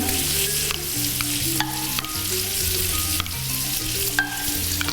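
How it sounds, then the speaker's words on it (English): Meat and chili pesto frying in a hot pan, with a loud, close, continuous sizzle and several sharp utensil scrapes as it is stirred, and no one speaking. "I'm going to take this pesto and I'm going to pop it in my pan."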